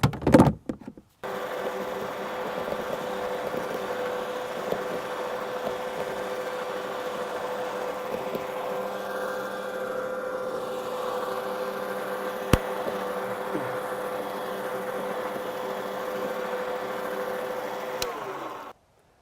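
An Allett Liberty 30 battery push mower, the 12-inch model fitted with its grass box, cuts a garden lawn. After a brief click at the start, it gives a steady, even electric whir that runs unbroken for about seventeen seconds.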